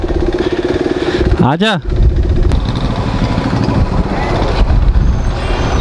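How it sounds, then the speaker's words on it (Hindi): A KTM 390 motorcycle engine runs loud and steady close by, with a brief passing vehicle sweeping through; someone speaks briefly over the engine noise. "मैं KTM चलाने वाला हूँ, फर्स्ट टाइम 390 चलाने वाला हूँ मैं"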